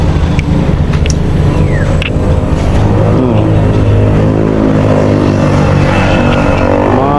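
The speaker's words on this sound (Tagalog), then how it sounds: "Muntikan di mabuhay yung sasakyan." A car engine left unused for a month comes to life and runs loud and close, holding a steady, rough idle throughout with a few faint clicks early on.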